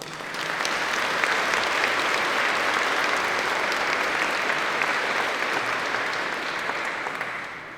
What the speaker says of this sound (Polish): Wielkie brawa dla Was